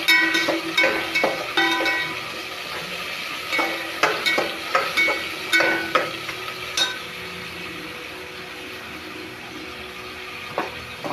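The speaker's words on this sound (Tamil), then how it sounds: "நல்லா வதக்கி" Tomatoes sautéing in a pan with a spoon: an even sizzle runs under clusters of sharp metallic taps and scrapes that are dense early on, then thin out into a quieter simmer toward the end.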